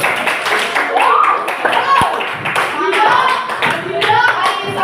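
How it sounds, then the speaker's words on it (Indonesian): A class in an Indonesian lesson claps hands together, a short burst of scattered applause mixed with children's voices and chatter throughout. "tepuk tangan untuk Yuda"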